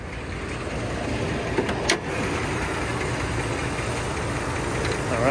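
1991 Toyota Land Cruiser FJ80 V8 engine idling under the hood, a steady low rumble with faint ticking, close and continuous with a small clunk partway through.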